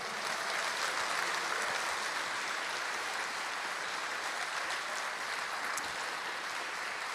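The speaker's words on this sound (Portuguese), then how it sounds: "aplauda Ele com força" A church congregation applauds during a celebration service, a steady, distant wash of many hands clapping with no clear voices on top.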